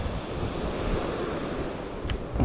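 A calm Baltic Sea washes against the shore by the northern pier at Liepaja, Latvia, as a steady, soft surf hiss mixed with wind buffeting the microphone.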